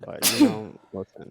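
One sharp, close sneeze bursts out near the start, followed by someone speaking casually in an indoor conversation.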